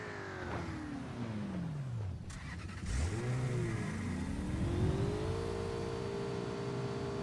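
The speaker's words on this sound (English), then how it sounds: "Let's get this car right here on the left." A video game car engine revs and accelerates, pitch sweeping down then climbing again as gears shift, ending in a sustained rising drone, loud and close with no talking.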